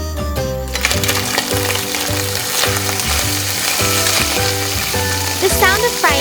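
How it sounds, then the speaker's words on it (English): Steady crackling sizzle of fat frying in a small pan while making butter garlic crab, loud and close, with a faint voice near the end. "The sound of frying fat is very soothing."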